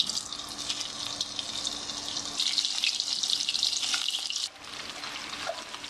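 Okra fries in hot ghee in a kadai while being stirred, making a bright, hissing sizzle that swells midway, then eases and dips briefly before carrying on, with no speech.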